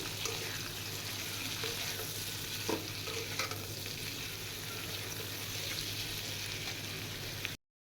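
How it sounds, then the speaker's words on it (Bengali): Carrots and capsicum fry with green chillies in a pan for chicken chow mein, a constant close sizzle with soft scraping stirs and a couple of louder knocks, alone, cutting off abruptly at the end. "এখন আমি গাজর এবং ক্যাপসিকামটা 10 থেকে 15 মিনিটের মতো ভেজে নেব।"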